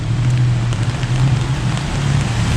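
Rain pours steadily on Sukhumvit Road in Bangkok, a loud, even hiss of falling water with a low hum of city traffic running beneath it throughout.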